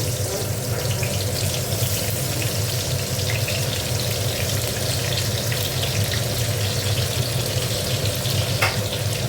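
Chopped onion fries in hot oil for a tilapia fish curry, a dense, steady close sizzle and crackle that goes on unbroken with no talk over it.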